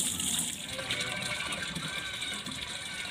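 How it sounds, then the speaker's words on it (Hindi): Water gushing steadily into a tank, a continuous broadband rush at low level with no clear pauses throughout. "देखो टैंक भरा जा रहा है"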